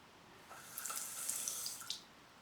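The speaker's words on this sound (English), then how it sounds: "You can just check that the taps are working," Newly fitted traditional basin taps run water into a basin, a soft hissing flow rising for about a second and a half with light splashing, then easing off, faint and close with no talking.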